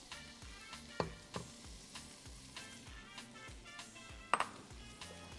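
Finely chopped onion sizzling in a spoonful of Rawabi ghee in a pan for bulgur, a steady close crackle broken by several sharp clinks and taps of a spoon against the pot.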